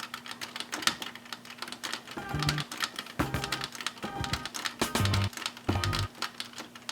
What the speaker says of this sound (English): you can type it in on the number pad